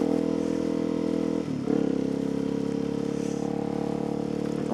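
A supermoto motorcycle ridden up close, its engine holding a steady drone with a brief dip and shift in pitch partway through, then settling back to a constant run.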